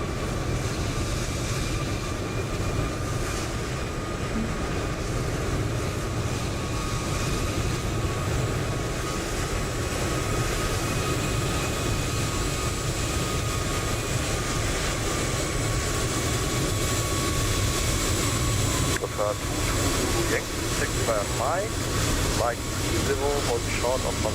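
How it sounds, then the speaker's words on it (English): A Lufthansa Airbus A320 takes off in Microsoft Flight Simulator 2020, a steady loud engine roar that holds throughout, with some rising whine and fluttering near the end. "Lufthansa 320 off to London Heathrow."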